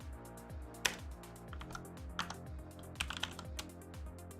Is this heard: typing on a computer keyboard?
yes